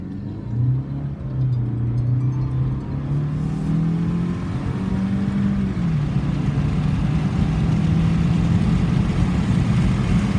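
A 2019 Jeep Renegade's 1.3 L turbo engine pulls steadily while driving with the windows slightly down, a loud droning hum rising in pitch as it accelerates, then settling into a sustained rumble.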